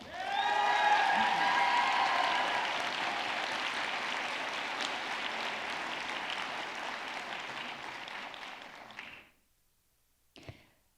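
A large commencement audience at a pharmacy college graduation claps loudly and continuously for about nine seconds, gradually thinning before stopping abruptly, followed by a brief thump.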